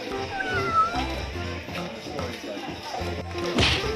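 A cat meowing at an Andaman resort on Koh Lipe island, short meows over a busy mix of voices and background music, with a voice nearby.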